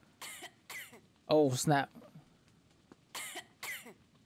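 A person coughs, a couple of light hacks, then a loud harsh burst of coughing near the middle, followed by further short coughs, all close to the mic with brief speech in between.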